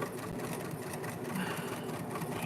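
A sewing machine stitches a quilt panel with a steady, continuous motor whir, close and moderately loud, running without pause.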